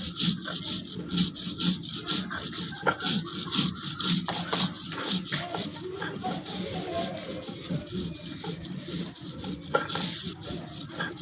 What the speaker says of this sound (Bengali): সেই সরিষাগুলো খুব সুন্দর করে বেটে নিচ্ছে